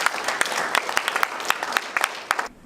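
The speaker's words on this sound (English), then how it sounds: "Let's give him a round of applause." Audience applause for spoken word performer LeDerrick Horn: dense clapping with sharp individual claps throughout, cutting off abruptly near the end.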